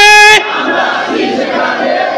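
Answering a takbir call at a religious sermon gathering, a crowd shouts Allahu Akbar in a brief, loud burst of massed voices that quickly fades into a murmuring hum.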